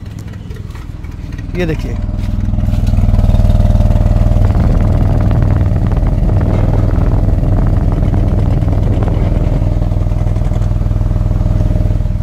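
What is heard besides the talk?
Mahindra XUV 3XO MX1 petrol engine running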